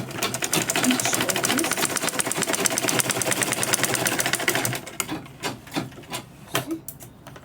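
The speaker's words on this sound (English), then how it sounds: "I'm now going to top stitch where I folded in" Sewing machine top stitching a fabric purse organizer bag, a fast continuous close-up whir for several seconds before stopping, followed by scattered handling clicks and a brief spoken remark.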